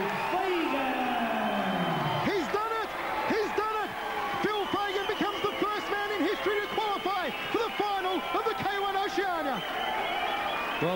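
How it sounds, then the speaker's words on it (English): A kickboxing crowd at a K-1 event rises in a standing ovation, loud sustained cheering, whoops and applause filling the arena, with an announcer's voice booming over the top. "a standing ovation for Gurkan Ozkan"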